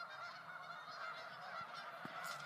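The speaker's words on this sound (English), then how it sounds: "Look how many birds there are." A large flock of geese honks in a dense, steady chorus of overlapping calls from a snowy, icy spot, with a few sharper honks standing out near the end.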